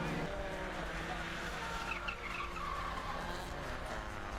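Race cars skidding and sliding on a very wet circuit at a national race of champions, a steady loud rush of engine and spray with tyre slip noise throughout.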